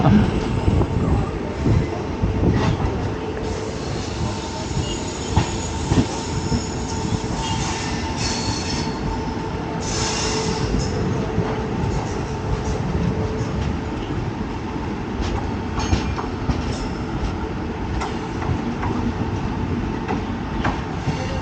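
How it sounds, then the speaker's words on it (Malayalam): The Himasagar Express rumbles along toward Kanyakumari with a steady low roar, rhythmic clacking of wheels and occasional faint squeals, heard continuously from inside. "അപ്പോൾ നമ്മുടെ വണ്ടി കന്യാകുമാരിക്ക് നീങ്ങുകയാണ്."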